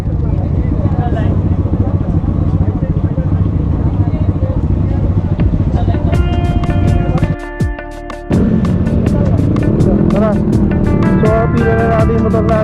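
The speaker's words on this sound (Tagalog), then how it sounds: "daming motor" Many motorcycles and scooters idle and rev together on a scooter race grid, a loud, dense engine rumble with sharp revving bursts and a brief dip midway, with people talking amid the noise.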